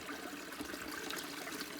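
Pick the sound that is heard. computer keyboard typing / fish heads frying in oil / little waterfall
little waterfall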